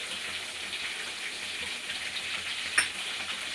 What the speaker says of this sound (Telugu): ఇప్పుడు ఈ మిశ్రమాన్ని చక్కగా కలుపుకుందాం.